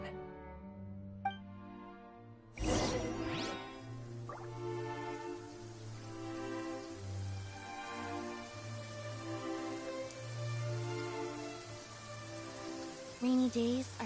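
Steady rain pattering in Genshin Impact, a continuous soft hiss over a gentle musical backdrop, with a sharp onset a few seconds in that then holds at an even level throughout.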